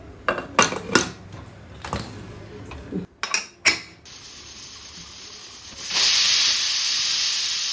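Clattering metallic knocks give way to a steady hiss that swells into a loud, continuous high-pitched whistle of steam escaping a pressure cooker cooking bisi bele bath.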